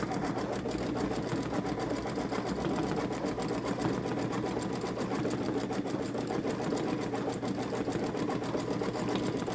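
A Babylock Solaris Vision embroidery machine stitches a watermelon design, a fast, even mechanical chatter running steadily and close without pause.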